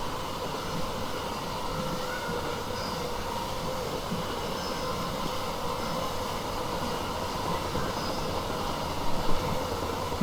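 A train in Train Sim World 4 runs at high speed, roughly 150 km/h, producing a steady, continuous rumble and rolling roar with no voices over it.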